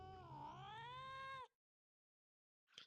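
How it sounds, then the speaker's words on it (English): A cartoonish cat meow from an anime scene, one long wavering caterwaul held for over a second, then silence and a short faint sound at the end. "With the cat noises!"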